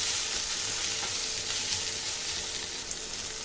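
Radish, tomato and coriander sizzle steadily in hot oil in a pan, a continuous close crackling hiss with no talking over it.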